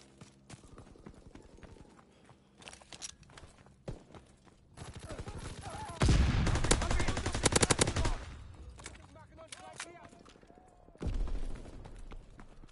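Gunfire in a WW2 video game, with bursts of shooting that swell into a loud, dense barrage near the middle and return near the end. Steady clatter sits under it, and no one speaks.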